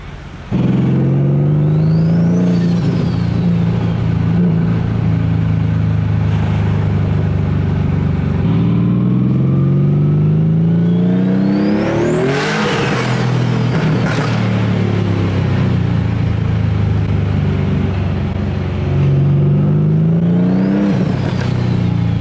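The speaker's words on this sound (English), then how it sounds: "Yo, tell me why this dude just did a fat burnout in that." A car's engine revs hard during a burnout, loud and close, the pitch sweeping up and down in repeated surges with a sustained rumble between them.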